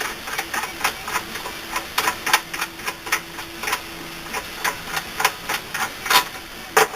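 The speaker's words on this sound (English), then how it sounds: "So now I'm going to pull this bolt out." A bolt worked loose on a South Bend 9A lathe under restoration, a quick run of sharp metallic ticks and taps repeating irregularly at close range with no voices.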